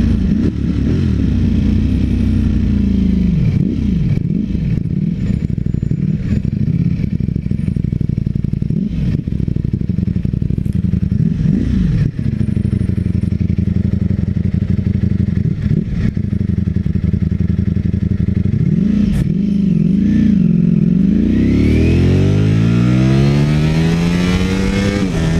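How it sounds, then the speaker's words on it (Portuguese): A Ducati Streetfighter V4S motorcycle is ridden hard, its engine loud and close, revving up and down through repeated accelerations and gear changes with a rising howl near the end; no talking. "Aqui eu vou ter que dar uma acelerada nessa moto."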